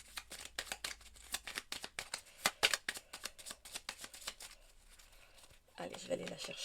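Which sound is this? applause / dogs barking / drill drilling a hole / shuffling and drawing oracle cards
shuffling and drawing oracle cards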